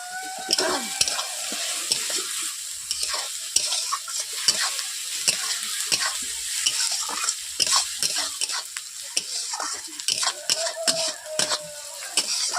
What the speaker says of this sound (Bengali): ব্রাউন কালার আসছে ততক্ষণ পর্যন্ত আমি নাড়তেই থাকবো